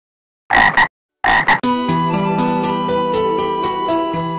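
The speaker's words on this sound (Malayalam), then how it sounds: "ഇതാ ആ തവള ആ കല്ലിന് മറവിലിരിക്കുന്നു" A cartoon frog croaks, with two short, loud, nasal croaks separated by silence, then a sustained series of rhythmic, buzzing croaks continuing close and clear.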